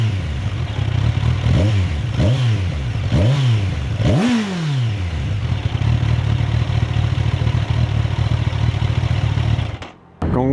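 A 2023 Kawasaki Ninja Z1000 SX engine revs up and drops back in four quick blips through its stock exhaust, then settles into a steady, muffled idle, close and fairly loud.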